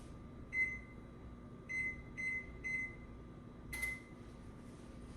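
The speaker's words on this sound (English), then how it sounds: "So I'm gonna preheat that oven right now." An oven control panel being set to preheat to 375, sounding a short series of clear electronic beeps, one early, then three close together, then a final beep, over a low steady hum.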